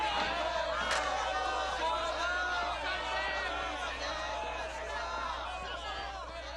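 An agitated crowd gathered outside a school in a 1962 drama, a dense babble of many raised voices shouting together at steady loudness.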